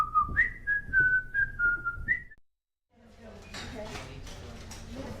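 A person whistles a short, wavering tune nearby for about two seconds, then it stops, followed by a pause and a soft clattering of dishes.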